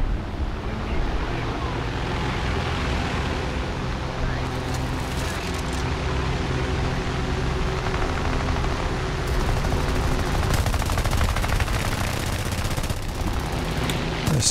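Bursts of rapid aircraft machine-gun fire from a V-156-F plane in War Thunder Air Arcade, crackling over a steady, loud engine and wind roar, with heavier volleys later on.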